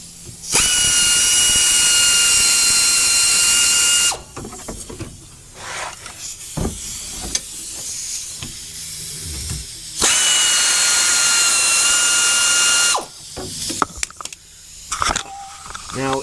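A pneumatic air tool runs in two long, loud, steady high whirring bursts during brake work on a four-wheel-disc Chevrolet Malibu, with clanks of parts and someone talking between the bursts.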